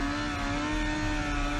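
A motorcycle engine holds a steady, loud drone during a wheelie among a pack of bikers, a continuous buzzing tone with no break, joined by other traffic noise.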